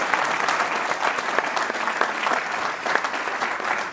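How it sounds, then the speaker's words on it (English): A conference audience applauds the panelists with dense, sustained clapping from many hands, close and even throughout without a break. "I think our panelists deserve a very good round of applause"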